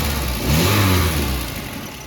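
A VW Golf Mk1 engine blips up from idle with a quick flick of the throttle, a single close rev that rises and then falls back toward idle.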